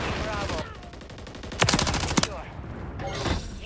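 Bursts of automatic gunfire in Call of Duty Modern Warfare III on the Rust map, two loud rapid volleys close by amid game voice lines and radio chatter.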